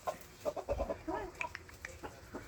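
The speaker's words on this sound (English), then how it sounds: "this is where we keep our second flock, and because hens can tend to fight" Hens in a backyard coop housing a second flock on a Vacaville, California property give a series of soft, close, irregular clucks and murmurs, with no talking.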